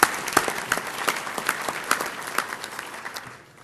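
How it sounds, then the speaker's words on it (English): Hall audience at a healthcare summit claps for event sponsors, a moderate round with distinct individual claps that gradually taper off and fade out near the end. "Let's give them all a round of applause."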